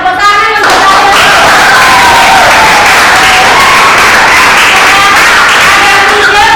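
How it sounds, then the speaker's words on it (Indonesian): Dense, sustained applause from schoolchildren fills a classroom, loud and close, with a teacher's voice talking over the clapping throughout. "Tepuk tangan untuk kalian."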